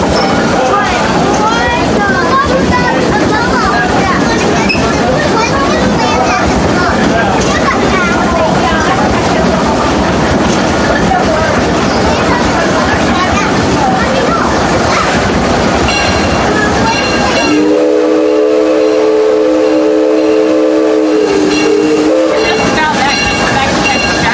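Six Flags Railroad train rolling with steady rumble and clatter, a loud sustained steam whistle blast near the end, with a conductor's voice over the ride.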